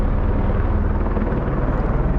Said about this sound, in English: The helicopter that was lifting in supplies.